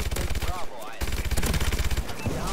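KF5 gunfire in Call of Duty multiplayer, with loud, rapid automatic bursts rattling close up and a short pause between them, a voice briefly breaking in among the shots.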